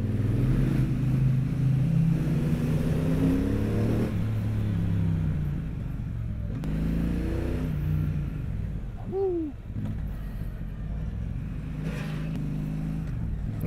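A 2022 Triumph Speedmaster Goldline Edition cruiser motorcycle engine rumbles and echoes through a tunnel, a loud, steady, close low drone with small shifts in pitch as it cruises.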